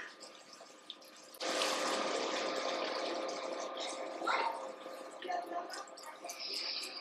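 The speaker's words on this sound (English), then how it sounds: "We can get some chicken broth on here." Chicken broth pours steadily into a gumbo pan, a continuous splashing stream that starts abruptly and keeps on with a faint voice beneath it.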